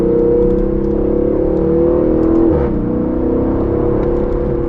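A powerful 4-litre twin-turbo V8 in an Aston Martin Vantage roars steadily at high revs, its pitch dipping briefly midway before holding strong again, loud and close.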